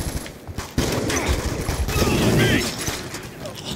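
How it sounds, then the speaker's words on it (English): The Death Machine minigun in Black Ops 2 fires in a loud, dense rattling stream with a sudden start, rapid overlapping shots blending into a continuous roar up close. "Dude, the freaking death machine noise."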